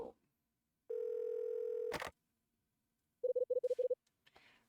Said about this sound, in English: I gotta get Rachel on the phone.